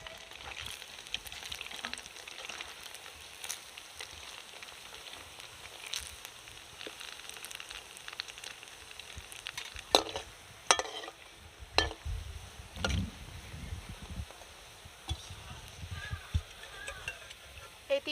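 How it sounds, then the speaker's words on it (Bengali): Soya gulab jamun balls fry a few at a time in hot oil, a quiet bubbling sizzle broken by occasional clinks and scrapes of a utensil in the pan. "এইভাবে আস্তে আস্তে ভাজাটা হবে"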